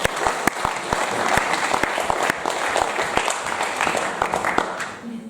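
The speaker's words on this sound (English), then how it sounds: "Let's have a round of applause for all the mums." An audience at a live stand-up comedy show breaks into loud, sustained applause, dense clapping close to the microphone that holds steady for several seconds before beginning to thin out.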